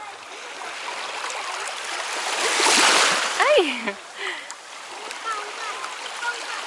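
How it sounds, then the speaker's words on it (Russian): Seawater splashes and swirls around bare feet at the shore in Zelenogradsk, a rising and falling wash of surf with irregular splashes, while a voice gives a short startled exclamation partway through. "Море плещется."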